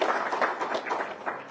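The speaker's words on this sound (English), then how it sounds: "Give her a round of applause" A room full of people applauding a speaker at a national security conference in Washington, a short burst of scattered, uneven hand claps rising and falling.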